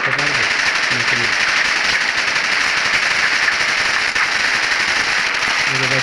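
Rapid automatic and sniper gunfire from a mobile battle royale shooter rattles constantly and loudly, dense and unbroken, as someone commentates over it.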